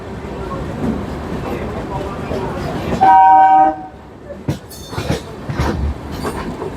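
A local commuter train rolls past a flyover in India, its steady rumble and clatter joined by a loud horn-like tonal blast midway, followed by sharper clanks and rattles, with a voice speaking over the noise.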